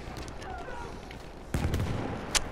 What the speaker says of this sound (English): I just spawned in and there's already explosions